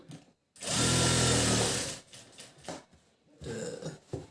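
An electric sewing machine runs in one loud, steady burst of about a second and a half while stitching lining into a blouse. Quieter handling noises and shorter whirs follow.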